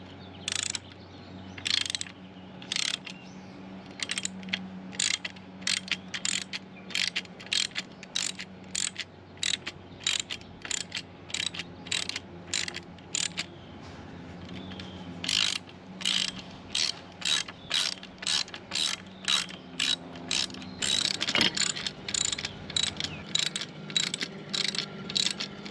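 A hand ratchet fitted with an 8mm hex socket working bolts loose on a Honda Rebel 1100 motorcycle, giving repeated close bursts of sharp clicking in quick strokes with short pauses between.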